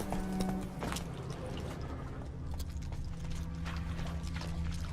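Horse hooves in The Witcher 3, a steady clopping gait running through dense game ambience, with mechanical rattles and a low hum layered in.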